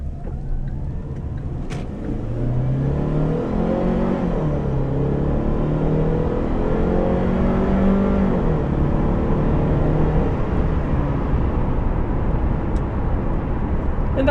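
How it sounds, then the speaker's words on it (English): A Kia Optima engine rises steadily in pitch as it accelerates toward 60 on a highway, with constant road and wind rumble throughout, heard from inside the vehicle. "get a little acceleration clip and accurately see how it sounds on the highway"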